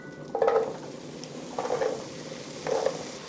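Potatoes sautéing in a pan for a corn soup, three separate bursts of stirring and sizzle, each under a second, over a steady low frying hiss with no talk.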